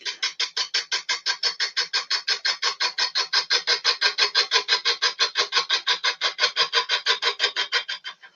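A wood gouge cutting a spinning multi-axis lamp on a lathe, a steady fast rhythmic scraping chatter pulsing evenly and loudly throughout, with no talk.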